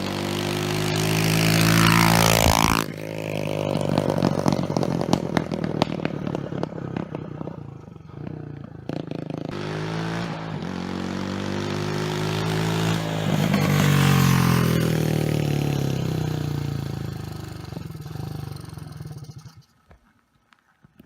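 A pit bike with its exhaust cut off revs loudly and roughly, its engine rising and falling through repeated harsh bursts and idling stretches before cutting out near the end.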